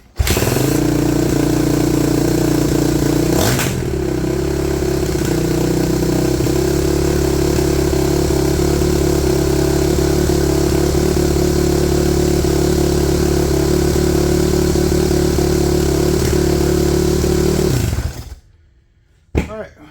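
A 20-year-old Yamaha YZ450 motorcycle engine runs after a kick start, a loud, close, steady idle that blips once early on and holds for most of the stretch before cutting out near the end, with some talk over it.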